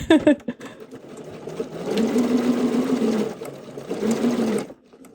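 A sewing machine stitches a half-inch seam along gathered fabric, running in two steady bursts of rapid, even whirring with a brief pause between, preceded by a few clicks of handling.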